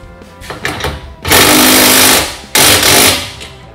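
An impact wrench torques up the bolts on an ATV/UTV trailer during assembly, giving two loud, sustained rattling bursts of about a second each with a short pause between them.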